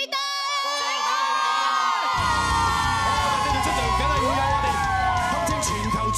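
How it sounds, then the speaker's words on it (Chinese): A live studio audience at a reality dating show erupts in loud, sustained screaming and cheering for the fourth team, beginning with a few high shrieks before a dense crowd roar fills the room. "尖叫吧。 四隊"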